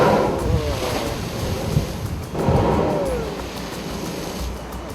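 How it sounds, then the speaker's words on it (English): Ocean surf surging against lava rock at the Spouting Horn blowhole on Kauai's coast, with two broad swells of rushing water building and receding amid steady wind noise. "Watch how each different set of waves changes how high and forceful the geyser blows."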